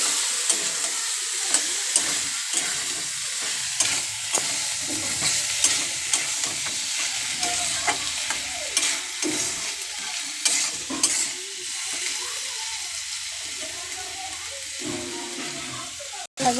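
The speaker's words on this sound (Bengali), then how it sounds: "এবার আমরা আলুটা ছেড়ে দেবো, দিয়ে একটু কষিয়ে নেব" Potatoes stirred and fried in oil for a Bengali chicken curry, a continuous sizzle broken by repeated spatula scrapes and clatters against the pan, with a faint voice in the background.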